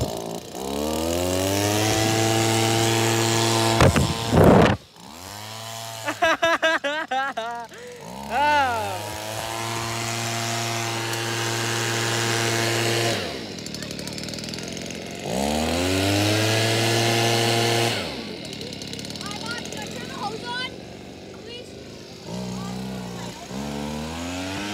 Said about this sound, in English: using the Stihl leaf blower, working good